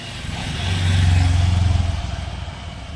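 A motor vehicle, likely a motorcycle, passes along a road, its engine sound rising to a close, loud hum with a throbbing beat, then fading slightly.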